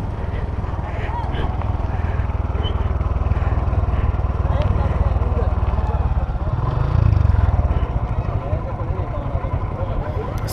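Several motorcycle engines idling and revving together while lined up at a river ferry ghat, a steady close engine drone with a brief louder rumble midway.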